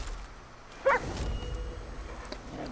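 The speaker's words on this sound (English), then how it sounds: "now I could hire this dog to protect me?" A dog available for hire as a companion in Far Cry 5 lets out one short, close bark, followed by quieter game ambience.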